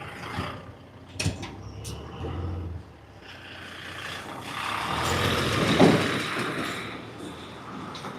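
A lorry drives in, its engine rumble swelling over several seconds and then easing off, with a few sharp knocks and clanks early on and no voices over it.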